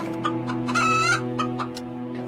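A hen in a village folk tale clucks in a few short, close calls, with one drawn-out squawk in the middle, over a steady droning background tone.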